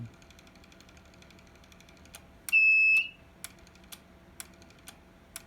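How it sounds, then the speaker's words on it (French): A short, loud electronic alarm tone from a maple syrup draw-off setup blares for about half a second, surrounded by sparse clicks and taps in a quiet room. "Je vais fermer l'alarme pour pas que ça déclenche pour rien"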